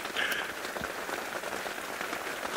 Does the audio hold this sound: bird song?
no